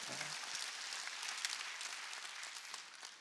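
A church congregation at a Wednesday worship service claps in a dense, sustained burst of applause, with a brief voice fading out at the very start.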